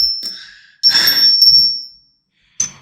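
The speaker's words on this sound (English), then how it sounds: "We shall bring a little bit of order by ringing the bell." A bright bell rings twice with a long, clear ringing tone, followed by a third short strike near the end.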